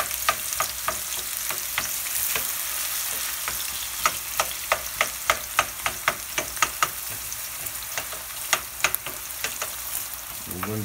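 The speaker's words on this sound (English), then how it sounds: "about a third of a cup of olive oil. We're gonna start sauteing that" Food sautés in about a third of a cup of olive oil in a pan for pasta salad, with a constant bright sizzle. Frequent sharp taps and clicks of a utensil against the pan sit on top of it, and no voices are heard.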